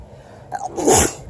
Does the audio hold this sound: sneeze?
yes